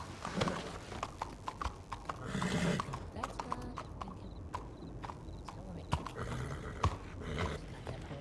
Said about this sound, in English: can you move the horse just a little bit